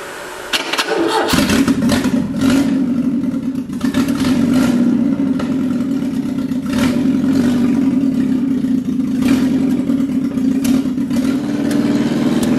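A 1955 Ford Pop engine fitted with Weber carburettors cranks and catches, then runs loud and close with a steady rumble and repeated revs rising over the idle, with no voices.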